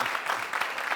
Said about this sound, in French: ça s'applaudit les gars